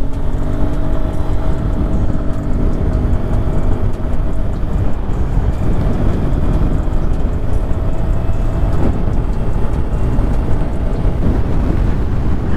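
Hero Xoom scooter ridden during a speed test in a small space, reaching about 75 km/h. A steady, dense roar of engine and road noise with heavy wind rush runs throughout, constant and loud, with no talk.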